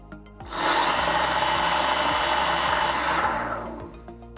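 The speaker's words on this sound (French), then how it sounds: "Le lambda, comme la pop-up l'indique, va être détecté en faisant tourner le moteur." Electric skateboard motor spun up by VESC controller detection, a loud steady whirring hum that rises at once, holds for about three seconds, then winds down, with no talk over it.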